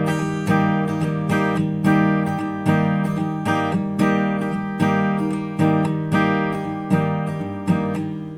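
Acoustic guitar strummed in a steady down-up pattern for a song, with ringing chords and repeated strong accents, loud and close with no voices.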